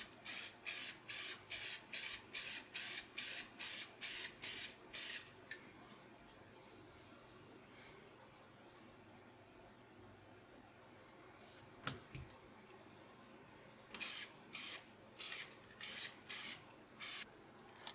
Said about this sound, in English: And now I can spray just the inside of the sole